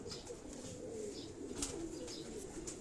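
Pigeon cooing on a rooftop loft in Karachi, a soft, steady, low murmur continuing through the whole stretch with faint higher chirps on top, moderately distant and without talk.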